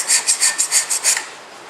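A hand scraper rasps across a metal surface in about seven quick, even strokes, close and crisp, then stops and leaves quiet.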